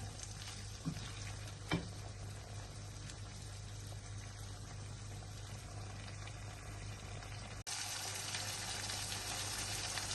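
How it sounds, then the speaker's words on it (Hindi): Goat kidneys fry in a pan with a steady, even hiss and gentle bubbling, a low hum running underneath, one soft knock early on and a brief break near the end. "ये 2 मिनट तकरीबन फ्राई करने के बाद जो है गुर्दों ने अपना कलर चेंज कर लिया है"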